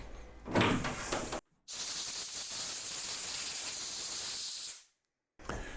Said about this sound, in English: Then I just blow them off with compressed air to finally dry them.